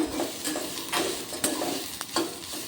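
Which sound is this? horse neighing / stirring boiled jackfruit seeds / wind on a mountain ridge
stirring boiled jackfruit seeds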